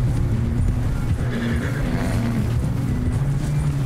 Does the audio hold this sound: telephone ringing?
no